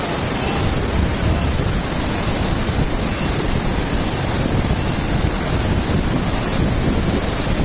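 Loud, steady roar of a waterfall in Mankulam, Idukki, a continuous broadband wash of falling water that fills the clip with no voices.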